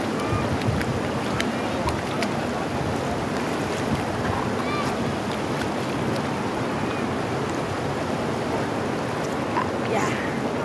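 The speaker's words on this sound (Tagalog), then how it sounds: "Ang lakas ng alon. Ay, ng agos." Strong current rushing through a stream at Laguna, a broad continuous roar of churning water filling the scene with steady wash, with occasional voices faintly underneath.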